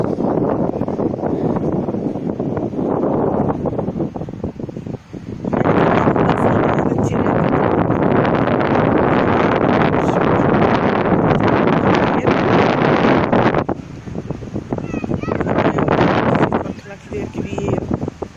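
Strong, cold wind blows outdoors in open natural scenery, battering the microphone with a loud, continuous roaring rumble. The gusts swell and ease for the whole stretch.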